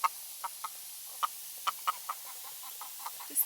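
Backyard hens clucking in the coop area on a hot day, a series of short, soft clucks scattered at an uneven rhythm, close and fairly quiet over near silence.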